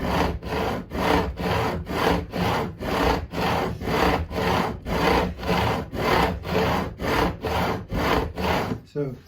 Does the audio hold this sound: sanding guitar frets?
yes